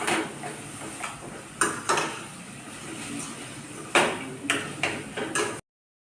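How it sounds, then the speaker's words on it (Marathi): Thecha chili paste being stir-fried in a pan for a Khandeshi ridge gourd bharit, with a spatula clinking and scraping against the metal in several sharp, irregular strokes over a faint frying background, and no talk. "तो सुद्धा 3 ते 4 मिनिट छान असा परतवून घ्यायचा"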